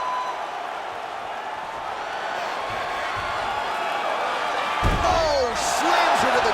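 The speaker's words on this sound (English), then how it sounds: "Slams her to the ground, so she appeared to be fending off the armbar, and then she just used her power and exploded her opponent down to the ground" In the UFC 4 video game, a female fighter is slammed hard to the canvas, a heavy thud landing over steady arena crowd noise while a commentator talks throughout.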